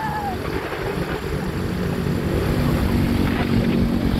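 A motorcycle engine hums steadily while riding, with wind buffeting the microphone throughout and a brief high whine near the start.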